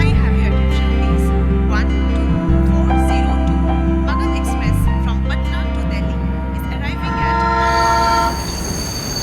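A passenger train rolls into a railway station on the Delhi route, a loud, close, continuous rumble of wagons with a horn blast late on, while people speak briefly in the background.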